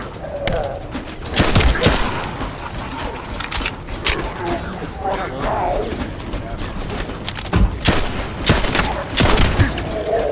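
Gunfire in a video game, a loud run of sharp repeated shots and thuds with irregular spacing, over a dense constant background of game noise.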